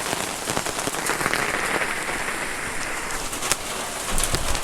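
Steady rain falls outdoors on a motorcycle outing with an NMAX 155. It makes a dense, continuous hiss of drops on surfaces at even loudness throughout, with no voices.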